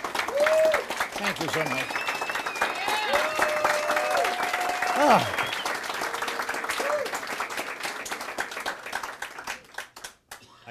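Audience applause fills a magic venue as a guest is welcomed on stage, steady dense clapping throughout with cheers and someone speaking over it, fading out near the end.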